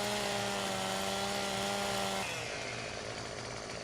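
Chainsaw felling trees in the Farming Simulator 17 video game, a steady loud buzzing whine that drops in pitch as it bites into the wood, heard alone without talk.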